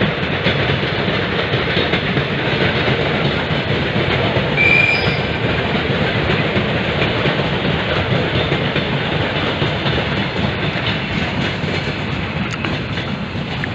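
A train runs past on a railway about 50 to 60 metres away, a steady loud rumble of rolling wagons with clattering wheels that fills the whole stretch without pause.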